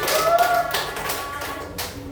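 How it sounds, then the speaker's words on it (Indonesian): Children clapping hands in a classroom, a short burst of close, loud clapping that fades into a few scattered claps, with some voices mixed in. "Iya, tepuk tangan."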